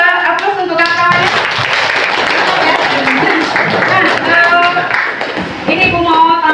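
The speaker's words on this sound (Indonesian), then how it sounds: "Beri dulu aplaus untuk kawan-kawannya." Students in an Indonesian classroom clapping for their classmates, a dense burst of applause that swells and holds for several seconds, with a teacher's voice talking at the start and end.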